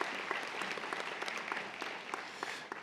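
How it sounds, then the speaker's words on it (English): A convocation audience claps as a nursing graduate leaves the stage, a continuous, even burst of many hands applauding throughout, fairly close and full, with no talk over it. "Round of applause for her as she exits."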